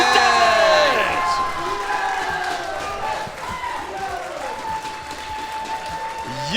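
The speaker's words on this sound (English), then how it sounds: "You can hear the crowd chanting. They are making a ton of noise for Robin." A Tetris tournament crowd cheers and roars for a player, loud and continuous, with shouting voices and tonal game sounds layered over the noise.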